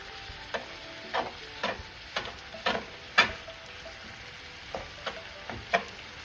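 Chorizo sausage, taken out of its skins, frying in a pan while being broken up and stirred: a steady faint sizzle under a dozen or so sharp scraping strokes of a utensil, spaced roughly every half second, with no talk.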